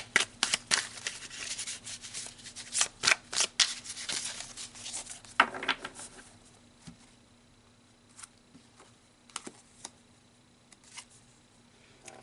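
Tarot cards rustle, snap and slap softly as they are shuffled and pulled from the deck, a busy burst of crisp clicks that thins out into sparse, quiet card taps.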